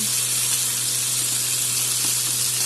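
Tomato, potato and beans go into a hot pan with fried onion for sambar, giving a steady, loud, even sizzling hiss that carries on without a break.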